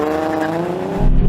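A new Nissan Z launches from 4,500 rpm with a clutch dump, a loud held engine note that drops and then bursts into a heavy low roar as the car pulls away, with no talking.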